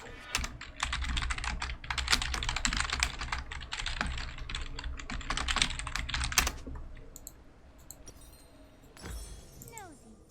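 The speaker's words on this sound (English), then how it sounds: "I just need to start typing in all caps" Rapid clatter of typing on a computer keyboard during a League of Legends gaming stream, steady and close for several seconds, then dropping to a few scattered clicks with a faint voice in the background.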